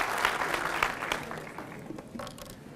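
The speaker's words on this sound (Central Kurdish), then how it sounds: "بۆ خۆتان چەپڵەیەک لێدا" An audience claps in applause, a dense patter of many hands that starts strong and slowly fades, heard indoors at moderate distance without speech.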